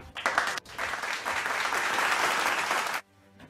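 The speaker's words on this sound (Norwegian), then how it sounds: "Applaus!" Burst of audience applause on a Norwegian comedy news show, loud and dense clapping that starts with a short stutter, swells and holds steady, then cuts off sharply, leaving a quiet tail.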